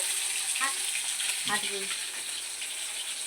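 Amudi fish sizzles steadily in hot oil with a constant bright hiss, and a couple of short voices break in briefly.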